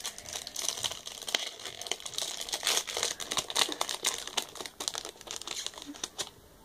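A Moshi Monsters card pack wrapper being opened by hand, with continuous close, loud crinkling and crackling of the packaging, including bursts of tearing, and no talking.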